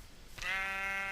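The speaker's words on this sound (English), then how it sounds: "Hello, little black sheep." A black sheep in Minecraft gives a single clear, close bleat with a wavering tone after a moment of near silence.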